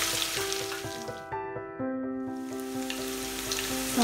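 Chopped ginger and garlic fry in hot oil in a pan for a Kottayam-style beef curry, a steady close sizzle with a faint tonal ringing over it and no talking.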